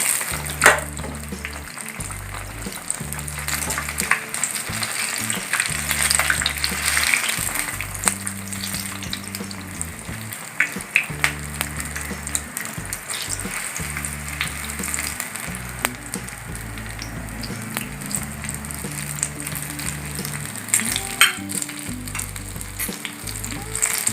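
Tomato baji fritters sizzle and crackle steadily in hot frying oil, a close, continuous bubbling hiss with bursts of louder spattering throughout, and no voices.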